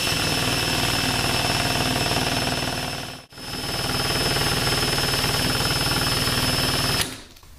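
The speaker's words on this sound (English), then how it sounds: "Might give it one more hit with the vibrator." Vibrator shaking a clamped resin mold for composite knife handles in a garage, a loud continuous buzzing rattle that briefly cuts out partway, resumes, then stops abruptly; no voices.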